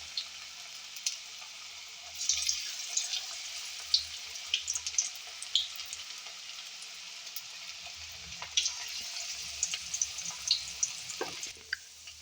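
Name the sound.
onion manchurian pieces frying in oil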